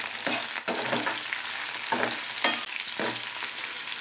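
Curry leaves and dried Byadgi chillies frying in oil with onion for bisibelebath, a loud dense sizzle broken by repeated scraping strokes of a spoon against the pan.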